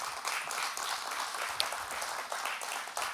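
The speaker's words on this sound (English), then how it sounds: "Please give them a round of applause." Applause from an audience at the opening of a business school, a broad sustained roar of many hands clapping, steady and fairly close, with a few sharper claps popping out.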